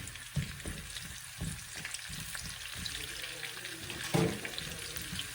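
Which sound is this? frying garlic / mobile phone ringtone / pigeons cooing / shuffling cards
frying garlic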